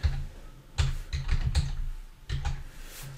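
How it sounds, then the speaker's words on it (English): Someone types in short irregular bursts on a computer keyboard, with clustered keystrokes and brief pauses between groups. The clicks are close and clear. "I'm going to type item ledge,"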